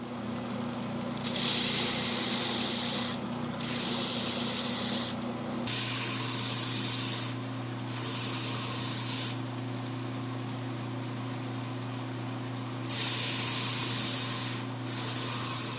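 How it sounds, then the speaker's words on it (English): Belt sander with an auxiliary fence grinding the points of a wooden shuriken fidget spinner, a steady close abrasive whir with bursts of louder rasping as the wood is pressed against the belt, the motor tone shifting midway. "the belt sander did the rapid removal"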